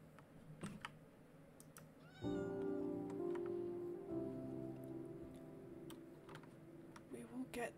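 A cat meows in a video game, short high mews standing out over a sustained droning game tone and soft keyboard tapping, while a player talks.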